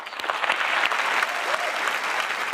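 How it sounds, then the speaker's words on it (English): A crowd applauding steadily, dense and even clapping throughout, moderately loud as if from within a large audience. "Let's give them a round of applause"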